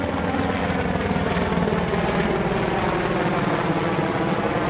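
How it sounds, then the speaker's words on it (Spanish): Navy helicopters thud overhead at a Coronado Island beach with a steady, loud rotor chop and engine roar that fills the whole stretch. "los helicópteros pelotudos de la Armada."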